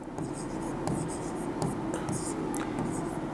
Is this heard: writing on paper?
yes